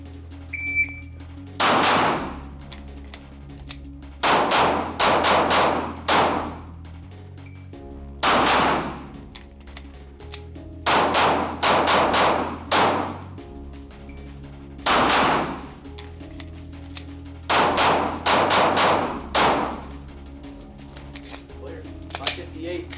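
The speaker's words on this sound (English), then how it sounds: "So I did shoot a few more rounds and I also reloaded." Glock 19 pistol shots during a room-clearing drill arrive in short bursts of two to four sharp reports, separated by quiet gaps for movement and a reload, with occasional voices between the strings.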